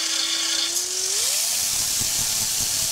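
Gyrocopter engine held at full throttle while the pre-rotator spins the rotor, a steady loud whirring drone with a tone that climbs partway through, then a continuous roar with wind buffeting.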